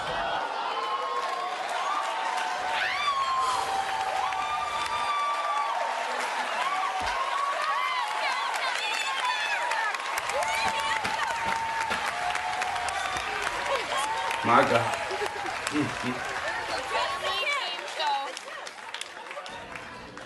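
Studio audience applauding in a continuous wash of clapping at a game-show style taping, with people talking and reacting over it, loudest near the end.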